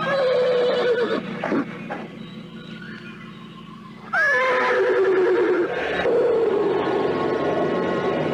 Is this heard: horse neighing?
yes